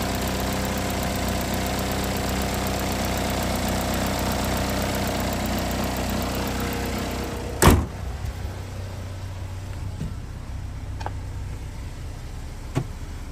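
2014 GMC Terrain with a 2.4-liter four-cylinder engine idling under the open hood, a steady mechanical hum that drops away after a sharp slam, followed by quieter idle and a few faint clicks.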